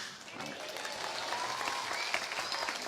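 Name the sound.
audience applause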